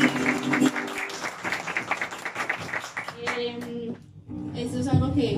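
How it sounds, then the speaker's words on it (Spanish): Clapping hands and applause at a family birthday celebration, steady and fairly close, with voices, including a child's, chattering over it and a brief dip near the end before it resumes. "bravo, fuerte un aplauso"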